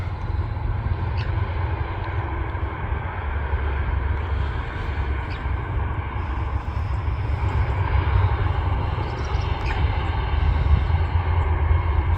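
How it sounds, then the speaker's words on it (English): A TUI Boeing 787 Dreamliner rolling down the runway at Manchester Airport, a steady distant engine roar with low rumble that swells slightly toward the end, heard alone from a viewing park. "TUI Dreamliner on the rollout."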